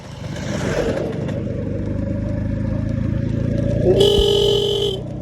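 A scooter engine runs nearby with a rough, continuous rumble that rises slightly over a few seconds. Near the end a short horn-like tone sounds over the engine.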